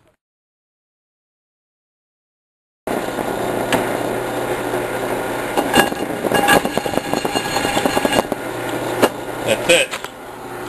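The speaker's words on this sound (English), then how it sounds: "Just drilled my fourth hole, the second one in this plate of steel. My nice old made in China drill press from Sears." An old made-in-China Sears drill press running steadily while drilling holes in a steel plate, with a constant motor hum and scattered metallic ticks after a silent start; someone speaks briefly over it.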